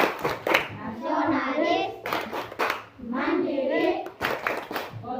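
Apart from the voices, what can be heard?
class clapping the PPK clap routine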